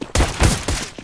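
Gunfire in Call of Duty striking the player: a quick cluster of loud, sharp bursts, three or four close hits in about a second.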